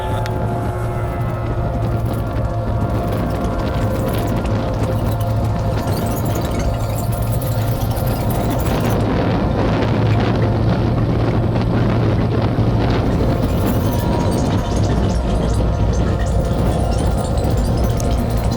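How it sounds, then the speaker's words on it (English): Falcon 9 rocket climbing during the NROL-87 launch, a steady, loud broadband roar with a low rumble that holds throughout, with no voices. "Falcon 9 is throttling down in preparation."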